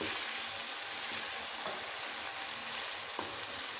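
Chicken karahi frying in plenty of oil, a loud, steady, dense sizzle with faint crackles and occasional stirring scrapes throughout, no voices.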